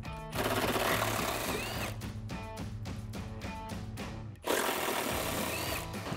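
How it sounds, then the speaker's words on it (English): An 8mm socket on an extension loosening bolts on the stock air intake of a 2015-2020 Ford F-250 6.2L V8: a steady whirring buzz of a power tool, with a rapid rhythmic rattling burst in the middle, close and loud. "Grab your extension and 8 socket and get those off."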